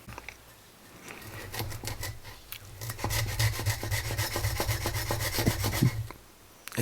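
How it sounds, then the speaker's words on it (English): A Kizer Aegis pocket knife slices through material in a cutting test, giving a close, dry rasping scrape made of quick repeated strokes that grow louder and denser midway before stopping. "Let's go for some kind of a cutting test here"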